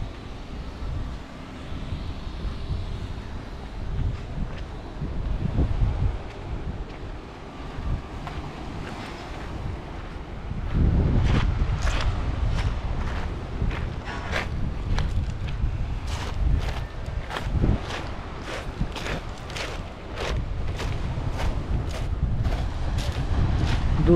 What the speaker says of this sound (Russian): Дует ветерок